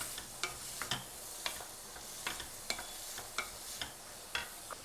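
Chopped medium onion frying in melted butter in a kadai makes a faint, continuous sizzle, punctuated by regular light scrapes and clicks of stirring.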